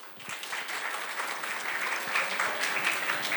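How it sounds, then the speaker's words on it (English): Audience applause greeting music and Kathak dance performers at an event, a dense, lively burst of many hands clapping at once, steady and building slightly over a few seconds. "huge round of applause"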